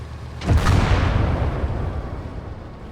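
A bomb bursts in a World War II tank battle game with a loud, deep boom that rumbles on and slowly fades over a couple of seconds, with no talk over it.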